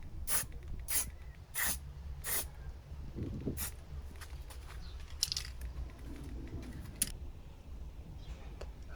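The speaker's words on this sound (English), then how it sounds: "you can see me just spraying the exhaust" Several short, sharp hissing bursts of an aerosol spray can applying matte black paint to a Zenoah G5200 chainsaw exhaust, separated by pauses, close and fairly quiet.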